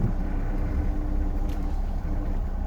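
A 1971 Jaguar XJ6 Series I 4.2 litre rolling downhill, a steady low engine and road rumble heard from inside the car, continuous and fairly loud with no talking.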